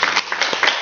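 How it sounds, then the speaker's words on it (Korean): A church lecture audience gives a short burst of clapping, a brief patter of hands lasting under a second. "박수 한번 쳐줍시다."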